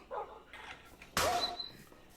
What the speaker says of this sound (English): easy on Butch, get out my dog. Bad plant